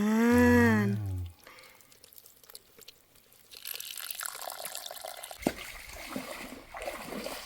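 Water trickles and splashes faintly at a fish trap in a stream, a low continuous flow with small drips and one sharper splash, after a brief loud tonal sound at the start.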